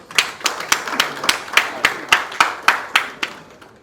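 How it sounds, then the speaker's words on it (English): A small audience at a Lagos clean energy finance and investment training gives a round of applause, heard as about a dozen sparse, evenly spaced hand claps, close and moderately loud. "Please give him a round of applause."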